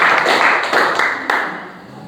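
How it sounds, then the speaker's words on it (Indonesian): A class of students in a mathematics lesson claps for a presenting group, a short burst of fairly close, loud clapping that tapers off over about two seconds. "beri tepuk tangan untuk kelompok 2"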